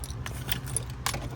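Car keys for a 1995 Jeep Cherokee XJ jangle close by in quick metallic clinks and rattles for a moment, with no one speaking.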